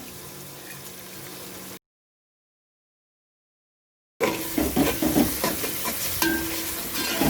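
Whole spices like cinnamon, cloves and cardamom fry in hot oil for Hyderabadi chicken, a continuous close sizzle with scraping stirs, interrupted by a brief silent gap before returning louder and busier.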